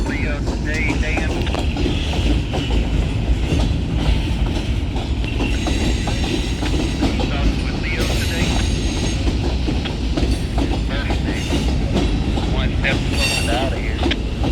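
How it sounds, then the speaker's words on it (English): BNSF freight train rolling past near Central Avenue, a loud continuous rumble with clattering wheels and squealing metal, with people talking over it. "We also got another BNSF coming down the bridge, so that'll probably be train number 5."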